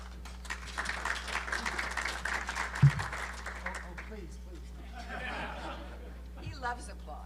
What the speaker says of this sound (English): He loves applause.